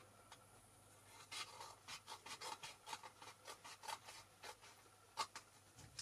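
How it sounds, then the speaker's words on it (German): Scissors snip through vinyl transfer film in a craft workspace, a quick series of close, crisp rasping cuts in an irregular rhythm with short pauses, and no talking. "So, dann schneide ich ein Stück noch kurz ab."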